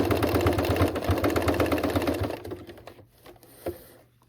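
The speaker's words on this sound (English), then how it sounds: "And back stitch a couple times." A sewing machine back stitching fabric on a beginner Christmas grocery bag holder, running in a rapid steady whir for about two seconds, then slowing and stopping, with a small click near the end.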